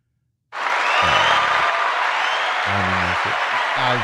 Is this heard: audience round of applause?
yes